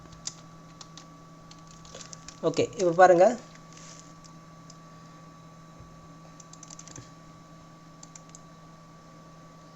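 A computer keyboard is typed on while entering text with the text tool in CorelDraw, a short close burst of soft key clicks alongside a brief spoken phrase in a quiet room.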